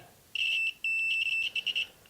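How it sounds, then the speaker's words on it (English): A few high-pitched electronic beeps, one long tone followed by shorter pulses, fairly clear against a quiet background. "It's beeping."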